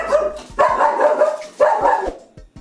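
Several dogs bark indoors in loud, close bursts, with two clusters of overlapping barks separated by short pauses and a few sharp yips.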